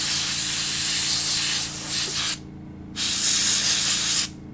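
An airbrush sprays primer in two close, loud bursts of airy hiss, separated by a short pause, with a lower background hum underneath.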